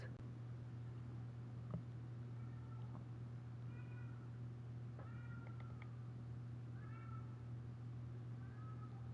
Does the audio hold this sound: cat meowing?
yes